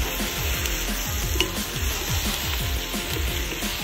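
Adobo sauce of vinegar, soy sauce and sugar frying in a pan, a dense steady sizzle with repeated low scraping stirs at a regular pace, close and continuous.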